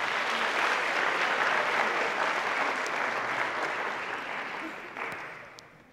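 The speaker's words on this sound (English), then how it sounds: "Please give them a round of applause." Applause from an audience at a high school senior awards ceremony, a dense steady wash of clapping that tapers off toward the end.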